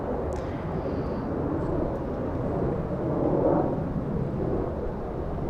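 A WestJet Boeing 737 MAX 8 taxiing to its gate at Los Angeles International Airport, heard as a broad, steady low jet-engine rumble that swells slightly midway, fairly distant and unbroken, with no talk.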